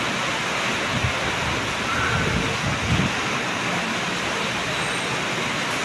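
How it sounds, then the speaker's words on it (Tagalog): Heavy rain pours in a steady, dense broadband hiss that stays loud and unbroken throughout, with a few slightly stronger surges and no voices over it. "Ang lakas ng ulan."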